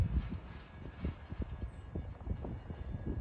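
A Southern Railroad diesel locomotive, number 6133, hauls passenger coaches on Norfolk Southern tracks near Spencer Yard, giving a faint, low rumble with soft rhythmic clunks of wheels over rail joints.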